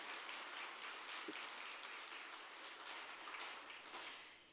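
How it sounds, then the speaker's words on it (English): An audience at the 2025 Samsung Ho-Am Prize award ceremony claps for the laureates. The applause is steady and faint, a soft wash of many hands heard from a distance. "Join me in a huge round of applause once again for all of our winners."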